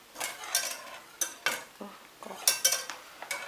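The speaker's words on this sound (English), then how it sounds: "I have to mix it while I add it because you don't want the lumps" A utensil stirs plain flour into melted butter in a pan, with quick scraping strokes and light metallic clinks over a soft sizzle, close and moderately loud.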